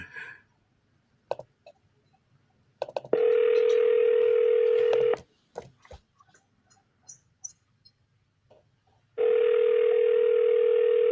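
Dial tone for the next outbound cold call, a steady tone sounding twice for about two seconds each, separated by faint clicks and handling noise.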